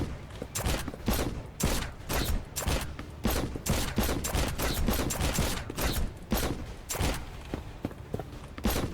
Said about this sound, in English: point blank shot to the face